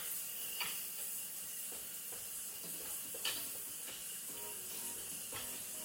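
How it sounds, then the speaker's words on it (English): A sauce slowly simmering on a stovetop gives a soft, continuous bubbling hiss with faint scattered pops and ticks, close and steady, with no voices. "Sauce is slowly simmering"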